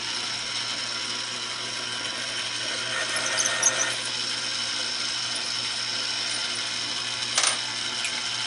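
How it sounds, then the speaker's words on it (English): An RCBS hand tool bevels the outside of a 300 Blackout brass case neck, making a faint steady scraping hiss with a couple of brief metallic clicks and no talking. "put a little bevel on the outside of the case neck"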